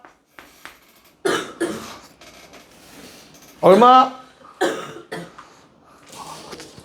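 Coughing in a classroom during a math lesson, a couple of short harsh bursts in the middle while a teacher talks before and after.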